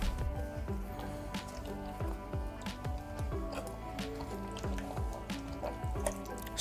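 Cloth mouse pad soaked and rinsed in water to wash out soap, giving steady close sloshing and dripping with gurgling, squelching bursts throughout.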